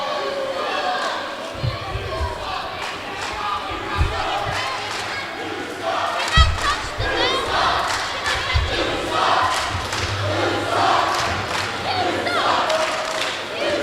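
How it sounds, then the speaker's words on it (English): A wrestling crowd in Palatka, Florida jeers and shouts at a wrestler, a continuous mass of voices with scattered yells and a few thumps from the ring, moderately close. "And the crowd here in Palatka, Florida, letting the Outcast know what they think of them."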